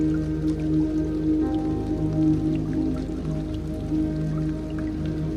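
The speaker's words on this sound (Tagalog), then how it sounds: "Sa gitna ng humahagupit na ulan at rumaragas ang tubig" Heavy rain pouring down in a storm with rushing water, a dense steady patter of drops and dripping throughout, moderately loud with no voices.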